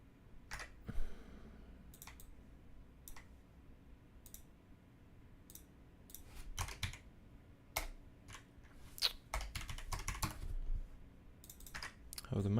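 Clacking keys on a computer keyboard, typed in short bursts and scattered single taps close to the microphone, with quiet pauses in between.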